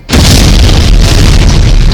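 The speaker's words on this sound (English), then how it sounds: "what harm can a little exploding cigar do" A loud, close explosion goes off from a nitroglycerin-loaded exploding cigar. It is one sudden deafening boom that fills the whole clip and keeps rumbling without fading.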